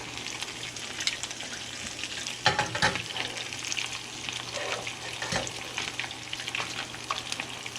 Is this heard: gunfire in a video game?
no